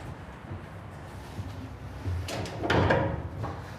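A 2026 Cimarron Lonestar Stock Combo trailer's rear camper door swings and shuts with a soft clunk, followed by a brief rattle, against quiet outdoor background noise.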